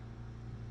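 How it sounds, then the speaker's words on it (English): A steady low mechanical hum with a faint rhythmic pulsing from an oxygen concentrator pumping continuously in the background in a house, no voices. "in the background I got a oxygen machine pumping away"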